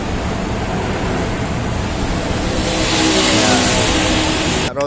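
A Yamaha NMAX scooter engine runs steadily on a road test, a loud continuous mid-pitched drone with wind rush that swells slightly toward the end before a brief cutoff.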